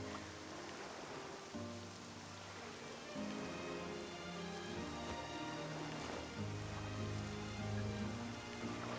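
Rain in the video game Octopath Traveler 2, a steady, moderately loud wash of falling water heard alone under soft background music, with no talking.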